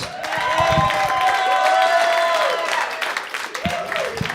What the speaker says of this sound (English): Round of applause for William DeJesus